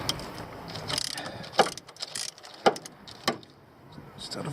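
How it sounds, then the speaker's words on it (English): A ratchet clicks in short bursts while tightening 10 mm bolts on the water pump of a 2005 Ford Transit, a few separate metallic ratcheting strokes close by in a quiet workshop. "I'll get screwing on these guys. They're 10 mils as well."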